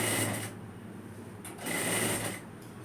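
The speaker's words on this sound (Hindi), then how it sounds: "इक्वल करते हुए धीरे धीरे आप सिलाई को घुमाते चलोगे" A sewing machine stitches kurti fabric with a steady, whirring mechanical drone that eases slightly and then picks up again, running continuously and close without talk.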